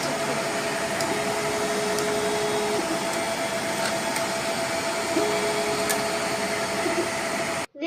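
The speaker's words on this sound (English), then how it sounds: "This is the bottom box printing." Steady mechanical whir of a 3D printer laying down the bottom of a box, continuous and fairly loud with a constant tonal hum and brief higher whines from the moving motors, no voices.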